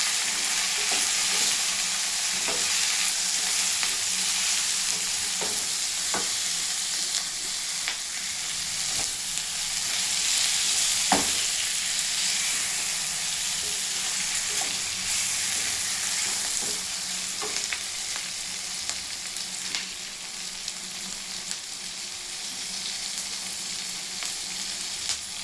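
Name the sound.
tomatoes frying in a pan for sambar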